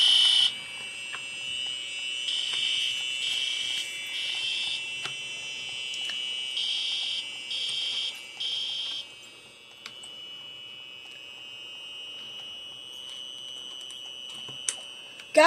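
A fire alarm sounds in a steady high electronic tone with pulsing bursts, fairly loud and continuous, with a few faint clicks and small noises around it.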